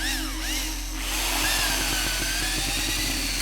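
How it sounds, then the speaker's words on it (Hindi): A power drill whines and grinds as it bores into a wall above a board indoors, a loud, close motor drone with rising and falling pitch and rough chattering as the bit bites, without speech. "ऊपर ड्रिल करो।"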